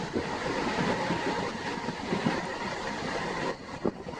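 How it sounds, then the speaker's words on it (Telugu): Warangal–Secunderabad MEMU passenger train pulling away from Pendyal station, a continuous loud rumble with rattling wheel noise running throughout, heard from inside the train. "పెండియల్ స్టేషన్ నుంచి మన ట్రైన్ బయలుదేరింది"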